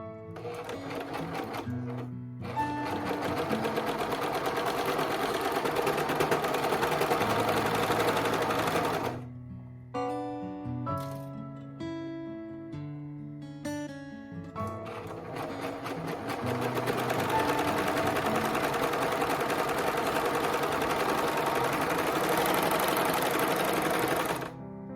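A Juki MCS 1500 coverstitch machine stitches in fast, continuous mechanical runs, close and loud, broken by a short pause and a stretch of slower, uneven running in the middle before full-speed sewing resumes.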